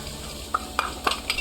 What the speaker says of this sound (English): I put my meat back in the skillet.